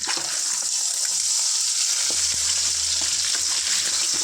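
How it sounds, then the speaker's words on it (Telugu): Salted eggs frying in a pan give off a dense, steady, loud sizzle throughout, with faint utensil taps underneath and no speech. "ఇలా ఫ్రై చేసుకుందాం"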